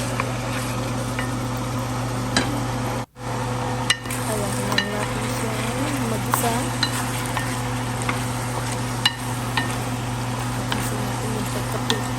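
Chicken caldereta is stirred in a sizzling pan, a steady frying hiss under occasional scrapes and clinks of the spoon, with a constant low hum in the background and a brief dropout partway through.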